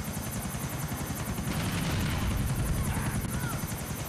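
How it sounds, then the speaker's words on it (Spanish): A helicopter in the video game GTA IV The Lost and Damned produces a continuous loud rotor thump and engine whine that holds steady and stays close throughout. "este helicóptero se me desvía mucho, tío"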